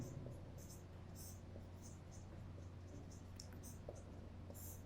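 Chalk or marker scratching on a board during an agricultural chemistry lecture, faint brief strokes in short irregular bursts over a low room hum.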